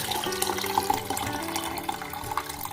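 Water running in a kitchen sink as rice is washed and its rinse water drained off, a steady close splashing stream with small fluctuations and no speech over it.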